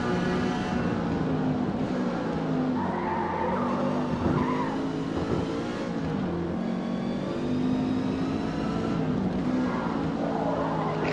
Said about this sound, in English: Excuse the downshift in the tunnel.